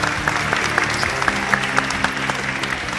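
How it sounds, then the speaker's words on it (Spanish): Sustained audience applause at a science and society congress welcoming a university molecular biology researcher, dense steady clapping from a crowd filling the room, with no speech. "Ahí está Carolina, un aplauso para ella."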